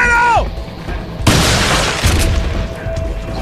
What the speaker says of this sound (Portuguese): Dispara. A shotgun.